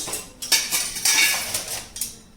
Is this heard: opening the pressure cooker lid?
yes